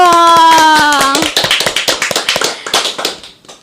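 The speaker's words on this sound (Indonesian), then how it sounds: "Wah, kalian tepuk tangan dong." A sustained vocal note rings out first, then a small group of people in a podcast studio clap their hands in loose, uneven bursts, close and fairly loud, thinning out toward the end.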